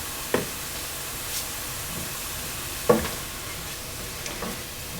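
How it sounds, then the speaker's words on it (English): Seasoned vegetables with salt and garlic powder sizzle steadily in a pan, with a couple of short scraping stirs cutting through the soft, constant frying hiss. "Give that a stir to mix it."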